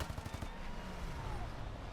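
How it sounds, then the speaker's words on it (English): Machine gun fire from a P-400 fighter plane in an aerial combat video game against a Zero, a rapid rattling burst over a steady engine drone. "This one is a machine gun."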